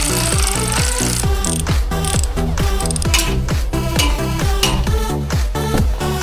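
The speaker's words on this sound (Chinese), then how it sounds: "电动扳手干，电动扳手呢？" Electric impact wrench on a bus wheel during a roadside repair, firing in a rapid, loud series of ratcheting hammer bursts with brief pauses between runs, the metallic clatter dominating throughout.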